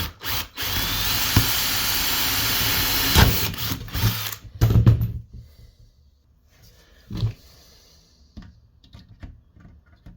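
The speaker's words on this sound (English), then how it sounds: "Using a smaller screw with smaller drill, better fit." A power drill whirs in a sustained burst, then several shorter bursts as screws are driven into a metal chimney flue, followed by quieter handling sounds.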